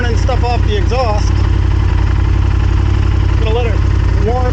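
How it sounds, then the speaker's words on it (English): A Honda Superhawk (Firestorm) motorcycle engine idles steadily after carburetor work, a loud, even low rumble running throughout, with a person talking over it. "Gonna let it warm up for a minute before we're gonna crack in the throttle or anything like that."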